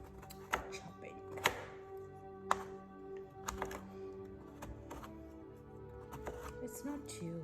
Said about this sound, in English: So here is the process of chopping.